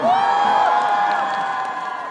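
Audience at the Boryeong laver (gim) festival performance cheers and whoops loudly, a dense sustained crowd roar with high shrill shouts, steady throughout and slowly easing.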